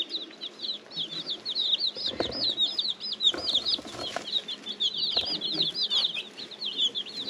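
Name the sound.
chickens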